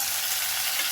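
Onions with garlic and curry leaves frying in a pan, a dense, steady hiss of sizzling oil, close and continuous for a brief moment.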